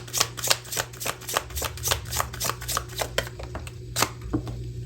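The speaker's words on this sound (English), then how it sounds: "let's grab a card or 2 from My Fairy Tale is Real" A deck of oracle cards is shuffled by hand, making a quick run of crisp riffling flicks in an even rhythm, close and moderately loud, that ends with a few separate slaps of cards. No voices are heard.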